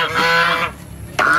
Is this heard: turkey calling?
yes